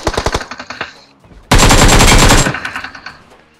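Automatic gunfire from PUBG Mobile, with a burst of rapid shots followed by a sustained, loud wall of continuous fire lasting about a second, then trailing echoes.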